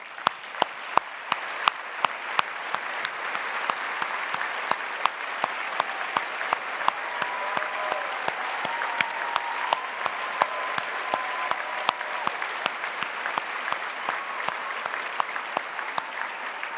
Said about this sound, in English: let's have our 2026 honorees please stand for one final round of applause.